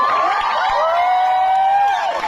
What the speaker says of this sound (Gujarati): તમારા બોલવાના માટે તાળીઓ પાડશો.